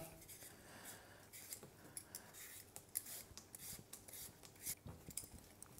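Potatoes are peeled by hand in a kitchen, quiet rhythmic scraping strokes of a peeler, each a short crisp rasp, repeating irregularly and close by with no talk.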